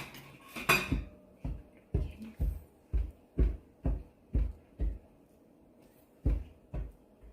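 Raw pork being pierced with chopsticks before boiling gives a steady series of about a dozen dull, close thumps, evenly spaced with a short pause near the end, and no talk.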